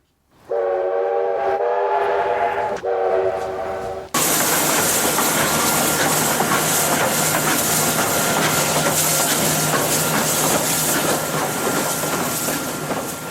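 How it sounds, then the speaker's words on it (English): A J-Class steam locomotive sounds a loud, sustained whistle in two blasts, then a powerful burst of steam exhaust hisses and roars continuously, close and without voices. "That steam engine that you just heard was a J-Class"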